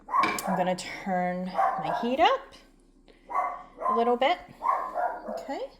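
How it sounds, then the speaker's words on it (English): Cane Corso boxer dog barking and yipping in short bursts in a home kitchen, some calls whiny and drawn out, heard near and fairly loud alongside a person talking. "I also have a Cane Corso boxer who hardly barks, but she likes to bark"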